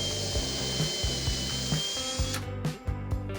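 A small power drill with a 2.5mm bit whirs steadily at high speed drilling pilot holes for glazing clips, its motor pitch dropping slightly before it stops, with a few light clicks at the end.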